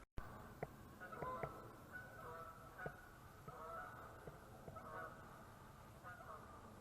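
A couple of geese honk repeatedly overhead at a campsite, their calls fairly distant and faint over steady outdoor background noise.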